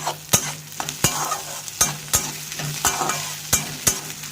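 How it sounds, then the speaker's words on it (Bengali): A spatula stirs chopped ginger and garlic into onions frying in a pan. Sharp scraping strokes repeat at a steady, quick rhythm over a constant close sizzle. "এর মধ্যে আদার কুচি আর রসুন কুচিগুলো ভালো করে দিয়ে মিশিয়ে নেব"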